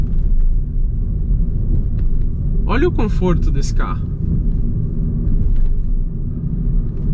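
A BYD Dolphin EV rolls over an uneven upscale-neighborhood street, giving a steady low rumble of tires and suspension throughout, with a person briefly talking in the middle.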